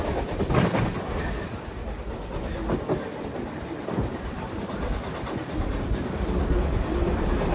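Riding on a train pulled by R&N steam locomotive 2102 between Nesquehoning and Pittston, a constant loud rumble fills the car, with rhythmic clickety-clack from the wheels on the rails and no voices.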